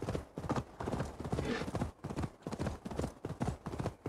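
Horse hooves clip-clopping at a gallop in Assassin's Creed Valhalla, a fast, steady rhythm of thudding beats up close, with faint game ambience underneath.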